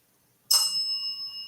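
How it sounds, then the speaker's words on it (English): A small bell gives a single sudden bright ding with no one touching it during a Halloween ghost livestream, ringing out clearly and then fading slowly with steady tones after a silent lead-in. "I did not touch that bell."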